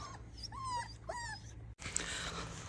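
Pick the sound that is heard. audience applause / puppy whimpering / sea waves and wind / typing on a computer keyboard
puppy whimpering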